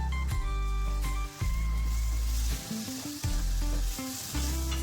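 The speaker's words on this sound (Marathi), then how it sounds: "आता मसाले व्यवस्थित परतून घ्यायचे।" Pulao masala and spices sauté in a pan with a steady sizzle while music plays prominently over the cooking noise.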